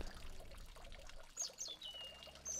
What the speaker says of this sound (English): I was curious what that water noise was.